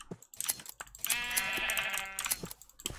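Sheep bleat in a Minecraft SkyBlock world, one long wavering cry at close range, with a few soft clicks before and after.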